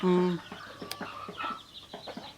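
Hens and young fighting-breed chickens cluck in a walled, house-like coop, with one loud nearby call at the start followed by a scatter of softer clucks and rustling.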